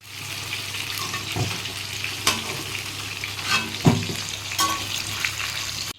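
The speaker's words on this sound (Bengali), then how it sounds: "এইবার ওই গরম তেলে দুটো তেজপাতা শুকনো লঙ্কা গোটা গরম মশলা ফোড়ন দিয়ে দিলাম" Two bay leaves, dried red chillies and whole garam masala tempering in hot oil give a steady close sizzle, broken by several sharp clinks and scrapes of a spatula against the pan.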